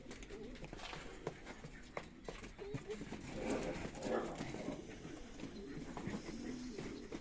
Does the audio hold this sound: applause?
no